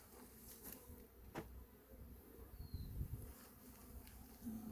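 Honey bees fly around a beehive at an apiary in Montana, giving a faint, steady buzzing drone with occasional louder passes as single bees fly close.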